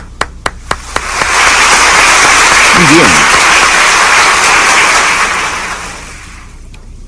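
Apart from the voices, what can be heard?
congregation applause in church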